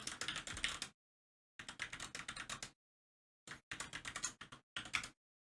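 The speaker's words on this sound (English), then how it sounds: "you can actually just type in dot 0 as well." Fingers type on a computer keyboard while configuring a Juniper network switch, producing quick bursts of close, crisp key clicks separated by short silent pauses.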